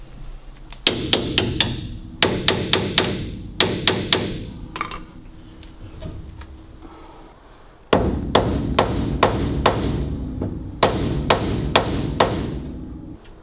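Heavy hammer blows driving out rusty king pins on a 1934 Buick, sharp metallic strikes landing in quick bursts of four to six separated by short pauses, loud and close with ringing decay.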